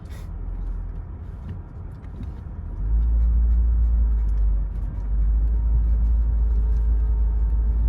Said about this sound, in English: Guess we got a little traffic jam here.